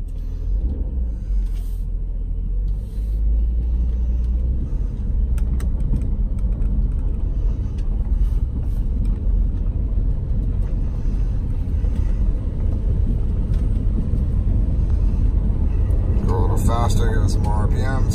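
A car engine revs and rumbles steadily during an ABS wheel sensor test, a loud continuous low drone holding for the whole stretch with faint voices underneath and a brief rattle near the end.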